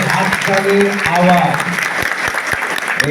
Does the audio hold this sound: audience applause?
yes